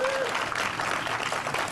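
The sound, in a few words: audience applause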